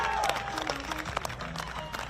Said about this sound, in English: Everybody give our soldiers a round of applause today